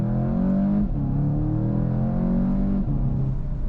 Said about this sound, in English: Let's test out a little bit of an acceleration.